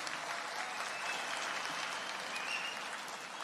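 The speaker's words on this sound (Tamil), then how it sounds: "எல்லாரும் ஓங்கி நல்ல கைத்தட்டலாமே." Sustained audience applause at a large political conference in Kumbakonam, steady dense clapping from a crowd heard at a distance, even in level with no talk over it.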